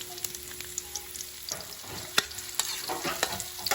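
Onion and ginger frying and being stirred in a pan for pesang tilapia, with a steady sizzle punctuated by repeated sharp scrapes and clinks of the utensil, growing busier toward the end; no talking.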